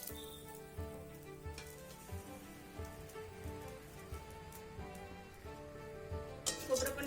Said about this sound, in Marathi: खोबरं पण भाजून घ्यायचे